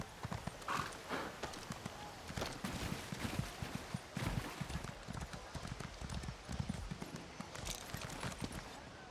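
Horse hooves clip-clop at a steady trot in The Elder Scrolls Online, a faint, dense run of hoof beats with a brief whinny near the start and some talking underneath.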